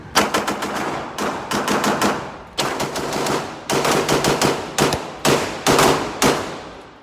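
Repeated pistol shots from a CZ 75 SP01, fired one-handed and two-handed in quick strings with short pauses, loud and close with sharp cracks trailing into range echo.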